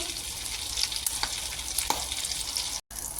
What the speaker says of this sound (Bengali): দেখো বাটারে কেমন একদম ফ্রাই হচ্ছে।